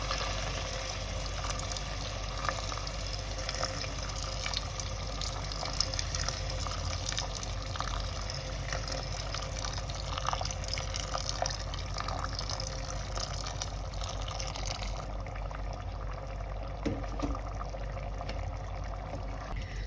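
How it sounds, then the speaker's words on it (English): Hot water poured into a pot of soaked rice mixed with chicken and masala for South Indian style chicken biryani, giving a steady, continuous splashing and filling sound with no talk. "Now we will add hot water."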